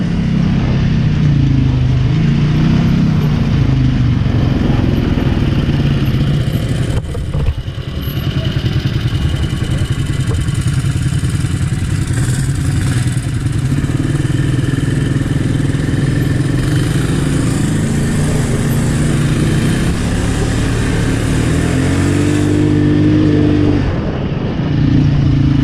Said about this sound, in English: Lots of razors out here, a lot of razors. And a lot of dune buggies and VW rails.